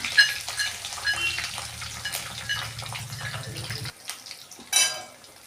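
Peanuts sautéed in a pan for kanda batata poha, a steady close sizzle with light stirring scrapes that cuts off abruptly near the end, followed by a brief rustle.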